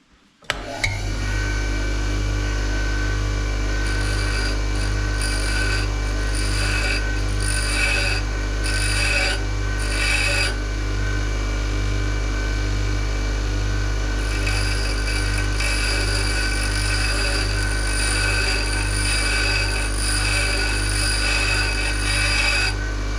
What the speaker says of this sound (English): So we're going to grind, grind.